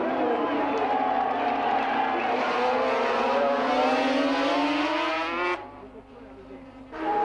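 Grand Prix racing motorcycles, among them a Rothmans Honda, screaming past at the 1988 French Grand Prix at Paul Ricard; a loud, sustained high engine wail that shifts pitch as the bikes pass, then drops away abruptly near the end.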